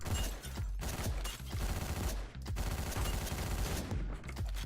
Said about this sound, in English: I got an assault rifle here, which is very good for this floor